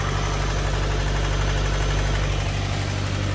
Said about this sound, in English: that's a pretty serious rattle